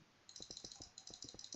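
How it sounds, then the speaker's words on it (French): Computer keyboard typing from a player named Mikado during a Minecraft-style island game session: a quick, irregular run of light clicks, fairly faint and alone, starting after a brief pause. "on entend le clavier de Mikado."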